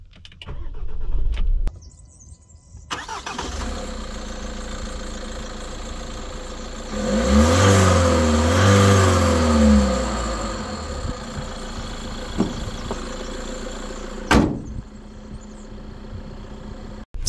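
A 2024 Renault Master van's 2.0 dCi M9R diesel engine idles steadily, then revs up and back down midway before settling, with a sharp knock near the end. No talking.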